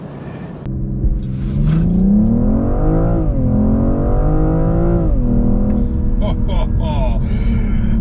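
A BMW M440i G22 accelerating hard from 0 to 60, its engine note climbing steadily through the revs with a loud, close rumble, pausing briefly at gear changes, while people talk over it.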